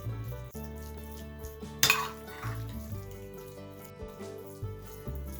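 Salt being stirred into an avocado salad, with dish and utensil clatter close by over a steady musical backing, and one sharper clink partway through.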